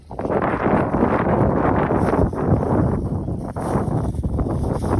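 Loud, blustery wind buffets the microphone in a constant roar on a farm during a pechay harvest, with gusts rising and falling throughout.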